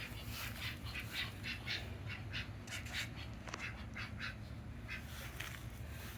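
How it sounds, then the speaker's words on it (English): Ducks quack in repeated bursts alongside chickens and roosters in a summer garden, a steady chorus of nasal calls, fairly close, over a constant low background with no talking. "And the ducks are telling them about that."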